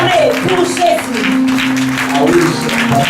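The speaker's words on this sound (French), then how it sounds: "Acclamez pour Jésus" A church congregation claps and cheers steadily for Jesus while a preacher speaks over the applause, the clapping dense and close throughout.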